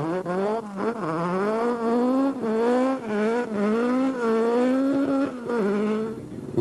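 A Sasol dual-fuel Volkswagen Golf rally car screams through a special stage, its engine note rising and falling with sharp gear changes and steady high revs, loud and close throughout.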